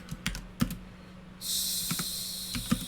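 Keys clacking on a computer keyboard in short irregular bursts, fairly close, followed by a steady high hiss.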